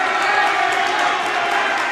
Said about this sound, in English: Entire Sterling side really giving Gould the applause.